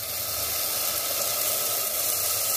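Tamarind water poured into a hot pan for a Tamil-style fish curry (meen kulambu) gives a steady, close sizzling hiss that holds evenly the whole time, with no talk.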